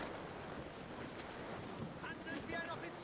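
Rough, gusty wind at sea aboard a sailing ship in Assassin's Creed Rogue, a faint, steady roar of wind and surf with slight swells in loudness and a few brief, thin creaks.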